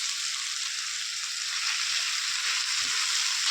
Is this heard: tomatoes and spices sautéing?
yes